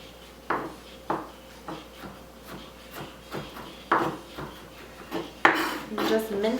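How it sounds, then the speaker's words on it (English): A knife taps and chops garlic on a cutting board with about ten light, irregular knocks, quiet and close, while someone talks over the sound. "Cutting out the yucky part of my garlic here."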